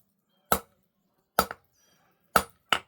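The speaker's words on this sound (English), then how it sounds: "I'm tilting my hammer slightly to hit that small spot." Forging hammer strikes metal stock, with four sharp ringing blows spaced irregularly over a few seconds, two of them close together, each loud and clear against near silence.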